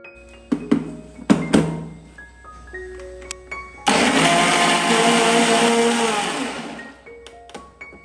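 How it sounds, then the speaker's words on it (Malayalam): Cooked rice and a cup of water being ground in a mixer grinder jar: a few knocks and clunks while the jar is set, then a loud, steady motor whir for about three seconds before it winds down. "ഈ ചോറ് നന്നായിട്ടൊന്ന് അരച്ചെടുക്കണം"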